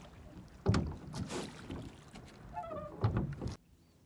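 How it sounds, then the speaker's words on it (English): Wooden oars creak in their locks on a rowing boat out on a breezy pond, giving a few irregular squeaks and knocks close by, with wind buffeting in the background. "I'm not going to try and talk over these creaking oars"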